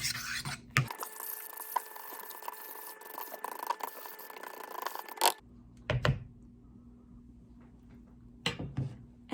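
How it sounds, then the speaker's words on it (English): Spoon stirring banana bread batter for dogs made with coconut milk in a bowl, a steady scraping swirl for several seconds, then a few separate clinks and scrapes. "And we're going to mix this all together."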